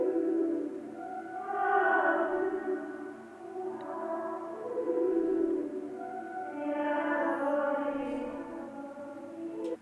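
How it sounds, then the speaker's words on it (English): A blurred, smeared vocal chop loop, processed in Edison, swells in soft washy phrases that repeat about every three seconds, sitting alone with no talk over it. "I added a vocal chop loop"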